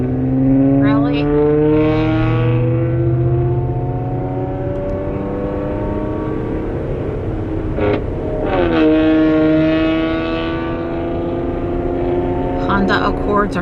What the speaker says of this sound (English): Honda Accords are not supposed to sound like that.